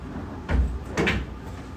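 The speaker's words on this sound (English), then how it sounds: "let's check this drawer" Drawer or cupboard being opened, two short wooden knocking thuds about half a second apart against a steady room hiss, fairly close, with no talking during it.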